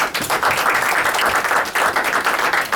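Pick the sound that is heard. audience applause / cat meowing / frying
audience applause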